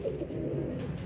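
Pet pigeons in a loft coo softly, a low, throaty, rolling call close by and faint, with no talk over it.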